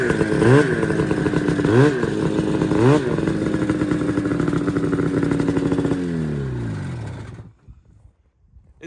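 MXZ snowmobile engine running nearby, a loud buzzing two-stroke drone with a few quick throttle blips in the first seconds, then a steady idle that winds down and cuts off near the end.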